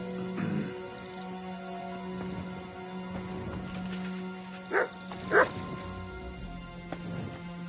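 Dog barking in the medieval role-playing game Kingdom Come: Deliverance II, two short sharp barks close by over a steady low droning background with faint shuffling.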